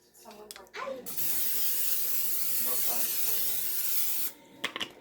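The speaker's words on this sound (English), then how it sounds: "We're going to spray it real good." Cooking oil sprayed onto an indoor grill: a steady, loud aerosol hiss lasting about three seconds, close to the mic, with faint talking and handling noises just before and after.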